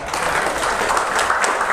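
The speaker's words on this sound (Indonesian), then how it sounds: "Tepuk tangan untuk Gus Muhaimin." Audience applause at an Indonesian political talk event, steady dense clapping that fills the room for a short burst, loud and continuous without clear individual claps standing out.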